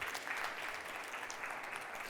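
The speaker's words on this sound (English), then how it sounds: "Clap for yourselves, tafadhali." Applause from a fintech conference audience, a soft, steady mass of clapping heard from some distance, even and continuous throughout.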